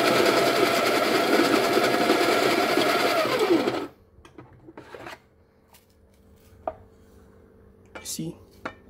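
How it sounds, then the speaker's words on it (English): Baratza Encore burr coffee grinder, stepless-modded and set to a coarse grind, whirs steadily through beans for about four seconds and then cuts out, leaving faint handling clicks and taps. "So let's grind this one out."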